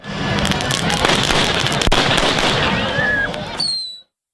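Fireworks launched into the sky at a public celebration crackle and burst densely and continuously, with a few rising whistles near the end before an abrupt cutoff.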